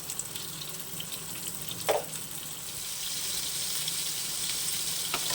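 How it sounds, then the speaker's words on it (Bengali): Pointed gourd frying in mustard oil in a pan, a soft continuous sizzle with a brief clatter of stirring near the start, close and fairly quiet, swelling slightly toward the end. "মোটামুটি লাল লাল করে ভাজা হয়ে গেছে"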